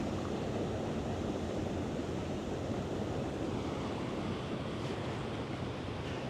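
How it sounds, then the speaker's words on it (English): Boston Harbor water churns along the Head Island Causeway, a steady broadband rush of surf and flowing water with some wind buffeting the microphone, continuous and fairly close, with no voices. "So here you can, literally see the water churning as it comes out."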